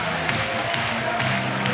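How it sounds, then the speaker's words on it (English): An arena crowd at the FIBA 3x3 World Cup women's basketball final between the USA and France keeps up a steady, loud roar of cheering with music playing underneath and a commentator talking over it. "And the crowd is already getting in it."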